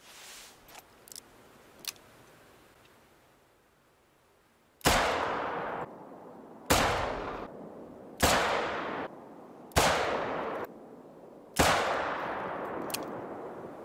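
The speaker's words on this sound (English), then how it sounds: "And then I will perform 5 shots at 100 meters." Five loud, evenly spaced gunshots from a .44 Panther Magnum revolver fired at a 100-meter range in the hunting game theHunter: Call of the Wild, each sharp crack trailing off in a short echo, after a few faint clicks.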